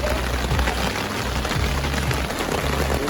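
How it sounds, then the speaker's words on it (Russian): Rain patters on a camping tent by the sea, a continuous soft tapping with low rustling and thumps from inside the tent, at a moderate level with no speech. "У нас начался дождь."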